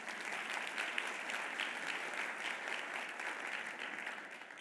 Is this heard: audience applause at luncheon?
yes